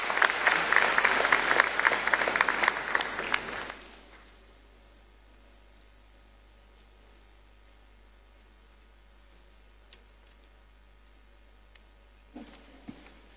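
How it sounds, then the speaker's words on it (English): Audience applause greets the head boy of PRESEC at a state education address in Ghana, a full burst of clapping for about four seconds that cuts off abruptly into near silence with faint room noise. "Let's welcome him with a round of applause"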